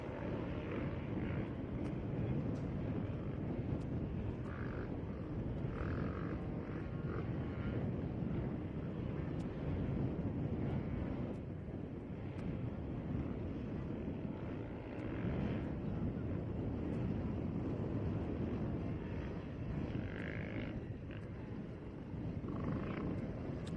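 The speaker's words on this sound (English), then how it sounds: "All right, drone's back up and running." A camera drone flies over a motorcycle grand prix, its steady propeller drone and whine continuing close and loud for the whole stretch with no pauses.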